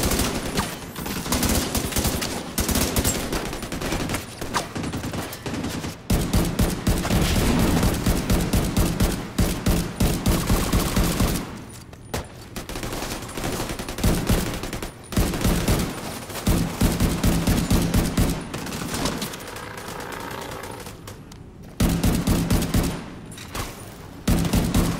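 Sustained turret gunfire in the video game Rat Race, with dense rapid bursts and heavy volleys that run almost continuously, broken by a few short pauses.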